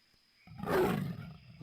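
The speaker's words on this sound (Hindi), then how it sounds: "तेंदुए के गुर्राने की आवाज है।" A leopard growls in a deserted jungle, one low rasping snarl that swells suddenly, peaks loudly and then trails off within about a second.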